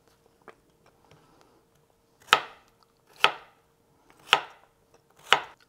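Knife chopping shrimp-dish ingredients into small cubes on a cutting board: four loud, evenly spaced chops about a second apart, preceded by a faint tap, with no talking.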